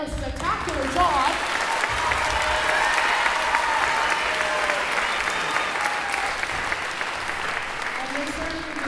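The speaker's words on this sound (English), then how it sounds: "they certainly deserve all of that applause" Audience at an All Area Band concert applauds percussion students after their opening performance, a thick continuous wash of clapping with some whoops, loud and sustained throughout, with a few voices briefly audible.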